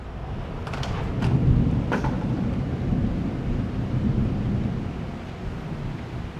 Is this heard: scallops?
no